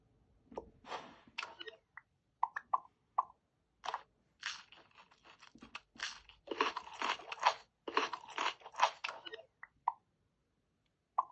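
Cartoon eating effects from the Toca World game play as characters eat snacks and ice cream: crisp crunching and chewing bites with little plops, in quick irregular bursts, no talk.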